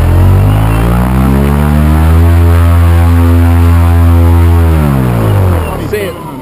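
DM12K motor spinning a propeller on a thrust-test rig, throttled up into a loud, steady rising drone with stacked harmonic bands that climb in pitch and hold, then ease off near the end, with people talking underneath.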